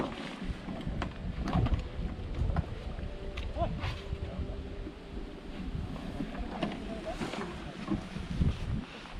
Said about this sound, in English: It is really friggin' windy today.